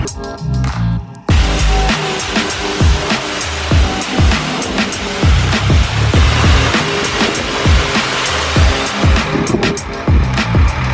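Water spraying over a school bus during a wash, a loud, continuous close-up rush of splashing and hissing with repeated surging bursts as the stream strikes the panels, broken by a brief quieter gap near the start.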